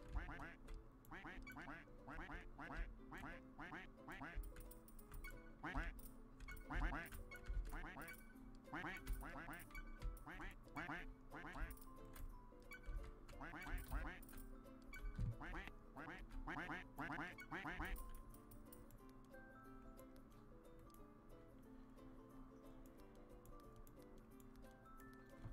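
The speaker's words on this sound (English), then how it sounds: "Wow, we got so many ducks." Dozens of ducks quack over and over in the Roblox game Duck Army, a dense rapid chorus of loud quacks over a ticking beat that thins out into quieter tones near the end.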